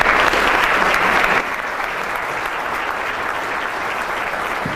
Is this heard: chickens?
no